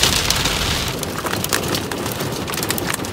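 Rain falling in Sanaa, Yemen, a dense, loud, steady patter on surfaces throughout, close by, with no voices.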